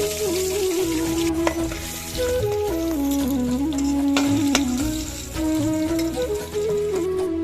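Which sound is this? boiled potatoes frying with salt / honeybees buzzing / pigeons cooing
boiled potatoes frying with salt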